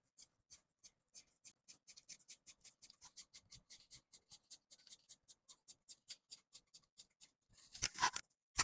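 Scissors snip through dress fabric in a steady run of crisp, close cuts, about three per second, followed by a brief rustle of handling.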